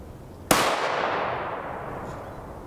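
A single M855 rifle round fired at an AR500 Level III steel armor plate cracks sharply and then rings into a long metallic decay, loud and alone.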